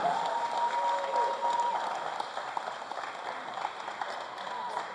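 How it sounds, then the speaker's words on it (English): A crowd applauds steadily from a distance for seven seniors at a varsity boys basketball game, sustained clapping in a large gym with a faint tone near the start. "how about a nice round of applause for our 7 seniors"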